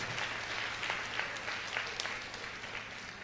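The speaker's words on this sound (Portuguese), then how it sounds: "Pode aplaudir a Jesus, que Ele é digno." A church congregation applauds in worship, sustained broadband clapping from many people with scattered sharper claps standing out from the steady wash.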